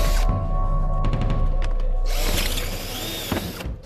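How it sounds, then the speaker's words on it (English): A power drill whines and grinds loudly, drilling holes through a metal tank, with brief pauses and rattling as the bit bites in. "drilling holes in that spare tank"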